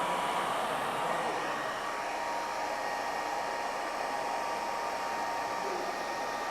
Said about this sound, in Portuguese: se eu vou ligar aqui o secador para a gente ter uma maior potência